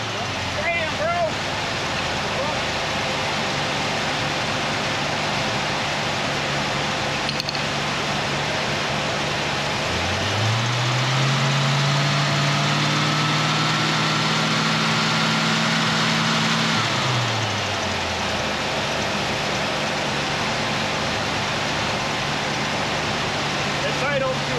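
A Ford 351C V8 idling high in a Mercury Capri, a steady close engine drone with a broad hiss, and the pitch rises, holds and falls back as the throttle is blipped midway.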